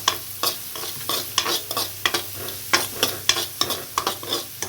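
Potato patty mixture with turmeric and chili powder being stirred and mixed, a series of regular scraping and squishing strokes, close and moderately loud, with no talking.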